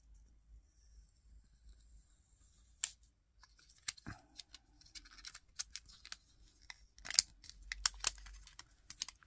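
Scissors snipping through paper while making a collage: quiet, sparse clicks and short cuts, some isolated and some in quick bunches, close and alone in a hushed room.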